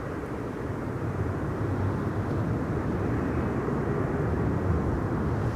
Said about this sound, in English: Embraer 175 arriving from Southampton